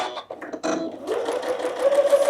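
A sewing machine stitches through quilt fabric, starting with a few short bursts and then settling into a steady, close whirring hum with rapid needle ticks.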